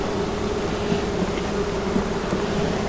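Honeybees buzz steadily at an open hive during queen marking, a thick continuous drone that is close and fairly loud, with no voices.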